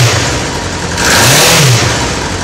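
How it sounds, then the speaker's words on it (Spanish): A Honda Sevenfifty motorcycle engine revs up and falls back twice, its rising and falling pitch loud and close with no talk over it. "Vamos a escuchar el motor para ver cómo funciona"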